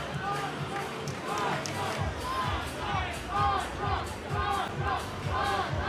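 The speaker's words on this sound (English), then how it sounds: "you may hear the crowd chanting in the background" A Karate Combat crowd chants in rhythmic waves at a martial arts event, loud and continuous across the clip, while a commentator talks over it.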